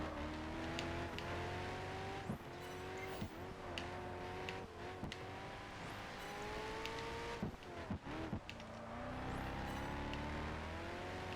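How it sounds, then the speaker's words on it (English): A racing car engine in Project Gotham Racing 4 roars continuously, revving up through gears with repeated shift drops and rising pitch, driven in the rain, loud and close with no talking over it. "I just like driving this car around here because it's fun."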